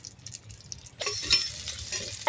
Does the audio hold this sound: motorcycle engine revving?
no